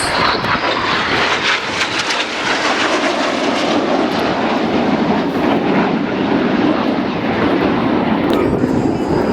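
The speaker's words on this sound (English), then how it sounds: "These 4 aircraft are known as Jippo, and this is the Jippo Pass." Four Red Arrows jets fly the Jippo Pass at the 2011 Leuchars Airshow, a loud, continuous jet engine roar that swells and shifts in pitch as they sweep past overhead, with a commentator talking over it.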